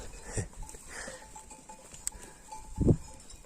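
Sheep on a mountain pasture give a couple of brief, faint bleats, one early and a stronger one near the end, against a quiet open-air background.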